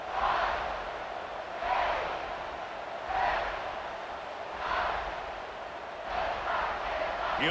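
Home crowd in EA Sports College Football 26 cheering in a game stadium, a steady roar that swells in waves about every one and a half seconds with no talk over it.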